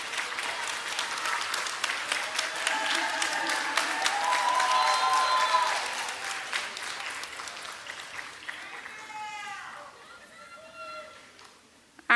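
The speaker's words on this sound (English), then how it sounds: "Please say thank you to them and give them an applause for their support" Sustained audience applause at a Galen College of Nursing graduation ceremony on the Louisville campus, a steady wash of clapping throughout, fading near the end.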